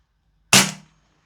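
A PTS ZEV OZ9 Elite gas blowback airsoft pistol fires a single 0.3 gram BB: one sharp, loud crack with a brief metallic ring that decays quickly into silence.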